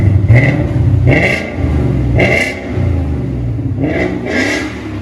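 A Ford Mustang GT with the 5.0L Coyote V8 and a Flowmaster 40 exhaust revs repeatedly, several loud throaty blips rising and falling over a deep rumbling idle, recorded up close.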